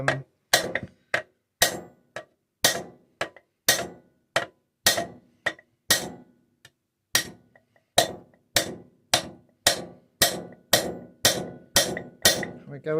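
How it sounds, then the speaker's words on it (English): Soft-faced hammer tapping a metal model part into place on a Britannia model, steady sharp knocks about twice a second with a few brief pauses, close and clear. "So I've got a soft faced hammer."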